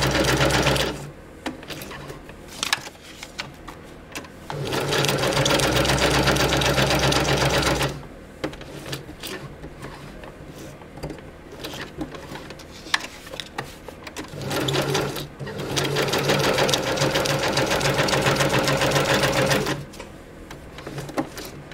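A sewing machine zigzag-stitches scrap fabric for journalling spots. It runs in two long, fast bursts of stitching separated by short stops and brief jabs, close and loud, with no speech.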